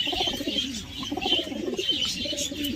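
Pigeons coo close by, soft rolling calls repeating in a gentle rhythm over a quiet background, with no talking.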